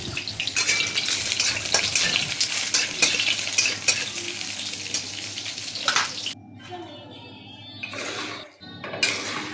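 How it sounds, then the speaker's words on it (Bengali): Vegetable stems fry in hot oil in a wok, a dense, steady sizzle with stirring clatter for about six seconds before it drops to quieter, patchier frying and scraping. "এবার ডাঁটাগুলো ভেজে তুলে নেব"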